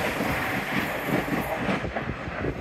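A train rushes through Newark Northgate station on the line from London King's Cross to Hull, a loud close rumble with rhythmic wheel clatter that fades toward the end.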